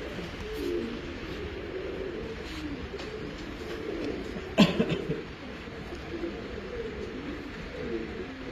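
Rooftop pigeons in the UAE coo softly in low, throaty murmurs, with a brief sharp rustle or flutter midway and faint background noise.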